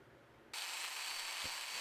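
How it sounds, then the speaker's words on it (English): A domino joiner cuts mortises in spalted maple, kicking on abruptly after a quiet moment and running at a steady, loud, bright whine with a brief thump partway through. "the domino joiner, which is what I'm using here, is it's basically a tool that mortises out of holes"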